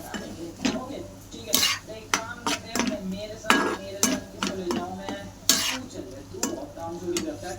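Chillies fry in a pan for a onion-tomato chutney, stirred with a utensil that knocks and scrapes the pan in an irregular series of sharp clatters over a soft sizzle.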